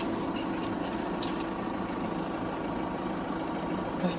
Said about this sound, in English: we're in the cab of the tractor here now